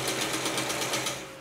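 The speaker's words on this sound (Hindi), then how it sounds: "फिर सीधी सिलाई लगा देंगे" Sewing machine running a straight seam on a dhoti salwar, a steady rapid needle clatter lasting about a second and a half, close and moderately loud with no voices.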